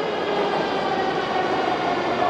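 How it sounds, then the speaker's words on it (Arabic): A Kazan Metro train pulls into an underground station, a loud, steady rumbling roar of wheels and motors filling the platform without any break. "وجا القطار، هنشوفه"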